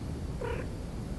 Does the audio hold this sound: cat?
yes